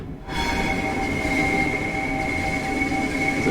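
A Class 387 Gatwick Express electric train in the Train Sim World 3 game, heard as a steady loud rolling rumble with a continuous tonal whine and faint high squeal, no voices.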